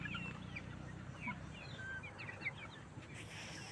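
Chickens cluck and murmur in short scattered calls outdoors at sunset, over a low, steady background hum.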